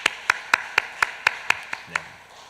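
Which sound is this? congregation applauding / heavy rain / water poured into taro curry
congregation applauding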